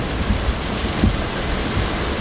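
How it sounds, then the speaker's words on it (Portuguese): Heavy rain pours steadily during a drive on the BR-163 highway, a dense hiss with a few low rumbling thumps of thunder, constant and fairly loud with no voices. "Agora com essa chuva aí tá difícil, ó."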